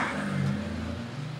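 A car drives past on a roadside without stopping, its engine rising and falling across a short, steady pass at moderate distance.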